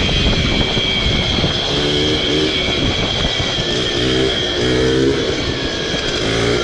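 A motorized bicycle engine with no muffler and no carburetor runs steadily, a loud, raw buzzing drone with a sputtering, pulsing texture, close and alone.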